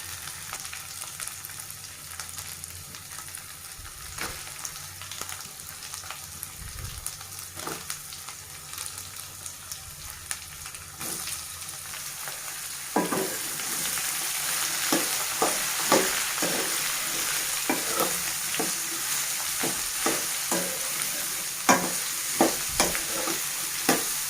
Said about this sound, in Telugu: ఇప్పుడు మనం కట్ చేసి పెట్టుకున్న సొరకాయ ముక్కల్ని యాడ్ చేసుకుందాం